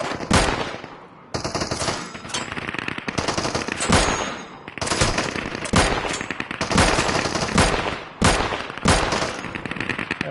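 Rapid automatic gunfire in the Deadside survival shooter game, loud and close, arriving in repeated bursts with short gaps between them and no talking.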